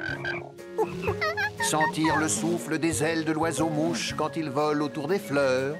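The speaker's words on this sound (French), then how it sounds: "On peut écouter les grenouilles qui coassent" Cartoon frogs croak in a countryside scene, a steady croaking chorus running beneath a narrator's continuous speech.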